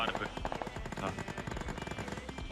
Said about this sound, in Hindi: फिलहाल तुम ये गन फाइट के साउंड सुनो।